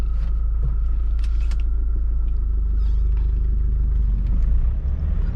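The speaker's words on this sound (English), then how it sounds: "You see right there, the vehicle comes to life." A 2011 Mahindra Scorpio engine, started with the clutch pedal, idles as a deep, steady, loud rumble close by, alone without talking.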